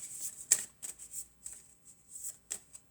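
Tarot cards shuffled by hand, a quiet run of crisp riffling bursts with short pauses between them, close and soft.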